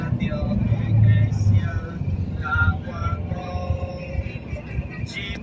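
Busy Cairo street with old buses and other traffic rumbling past and a low engine drone throughout, plus distant horn-like tones, heard under someone talking close by.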